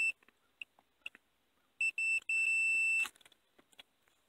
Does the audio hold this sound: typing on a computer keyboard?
no